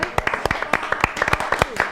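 Studio audience applauding a guest on a Spanish-language TV talk show, a quick run of close, sharp claps in an uneven rhythm, loud and with no talk over it.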